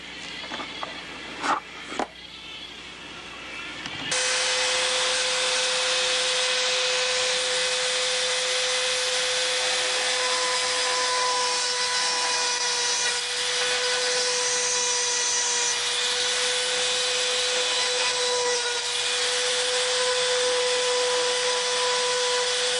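After a few light handling knocks, a power drill starts boring a hole in a foam model wing, its steady high whine running loud and continuous for nearly twenty seconds.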